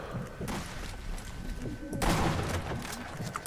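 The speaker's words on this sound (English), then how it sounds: "You're getting shot at." Gunfire from the video game Sniper Elite V2 during co-op play, a dense burst of loud shots running through much of the stretch with a heavier volley near the end, mixed with game noise and some talk.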